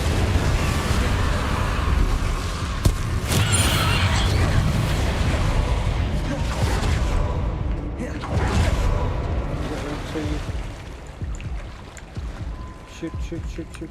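Confringo blasting spell from Hogwarts Legacy, a loud, dense magical explosion with rumbling, crackling debris that stays heavy for several seconds before slowly thinning out.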